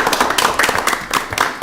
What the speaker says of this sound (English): So I think we should give him a big round of applause.